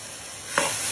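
Coriander powder masala roasts in a pan for mushroom do pyaza, a soft hiss with one brief scrape of stirring in the middle.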